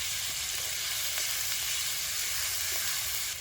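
Spices with a little turmeric fry in hot oil for chicken biryani, giving a steady close sizzle with faint stirring scrapes throughout, no voices.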